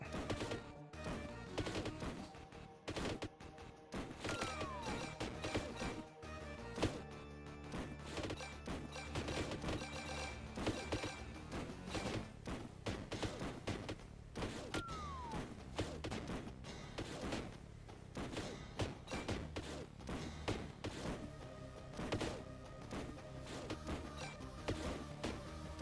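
Bolt gun fire in the video game Warhammer Survivors: dense, continuous bursts of punchy shots and crunching impacts layered over game music, loud and relentless throughout with no pause.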